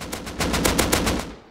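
Rapid automatic AK rifle fire in the Rust video game, a steady burst of loud, evenly spaced shots lasting over a second with no talk.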